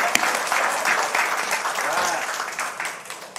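A church congregation breaks into dense, sustained applause during a sermon, many hands clapping together at close range for a few seconds and then gradually thinning out.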